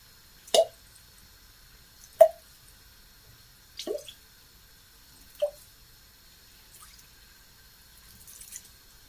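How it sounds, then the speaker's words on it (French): Water added a little at a time to couscous grains being prepared by hand: four separate soft plops or drips spaced a second or two apart, close and quiet, alone in a near-silent room. "Là, je vais ajouter encore un petit peu d'eau."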